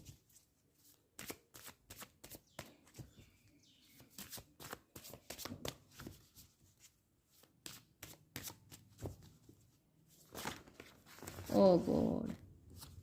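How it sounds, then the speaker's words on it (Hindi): Tarot cards being shuffled by hand: a long run of soft, quick riffling flicks, followed by a louder clatter as the cards spill and fall. A voice exclaims briefly near the end. "सारे कार्ड्स गिर गए।"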